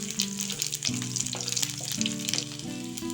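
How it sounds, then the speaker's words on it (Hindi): Four or five dry red chillies and garlic cloves frying in a pan for a spicy tomato garlic chutney, a loud, close, continuous sizzle with occasional stirring clinks. "4-5 सूखी लाल मिर्च और कुछ लहसुन की कलियां हैं, इनको भी डाल देंगे। इन्हें अच्छे से भून लेंगे।"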